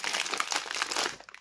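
Hands rummaging through a plastic bag of toy brick pieces, a continuous close crinkling and rustling of plastic with faint rattling of small parts, fading at the end.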